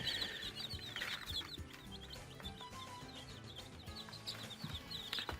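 Village chicks hatched from an incubator cheep in rapid high peeps, with soft clucking from chickens nearby in a quiet farmyard.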